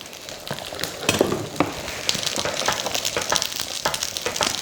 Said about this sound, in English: Now let's have a look at our curry here. Okay, that's simmering beautifully.